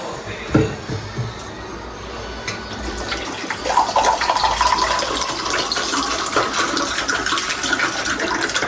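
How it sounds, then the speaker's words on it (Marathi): Water rushing and splashing into a container, a steady pouring flow that builds and continues, with faint background noise and no clear talking. "त्याच्यानं पाणी भरतो, पाणी भरायचं जमा नाही एका हाताने"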